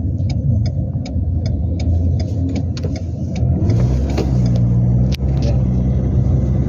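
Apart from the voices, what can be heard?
motor tricycles and other vehicles passing by on a street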